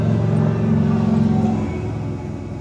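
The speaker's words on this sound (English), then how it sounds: "Hello, motorcycle." A motorcycle passes outside, heard indoors as a low droning engine rumble that holds steady then slowly fades away, with no voices over it.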